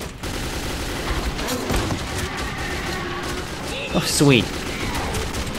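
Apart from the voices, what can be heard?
gunfire from hip-firing a gun in the video game Metro 2033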